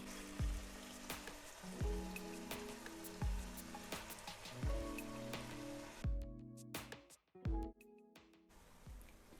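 Onions and leftover ground spice paste frying in a pan for baghare baingan, a steady close sizzle broken by repeated clunks of a spoon against the pan, then a brief quieter gap.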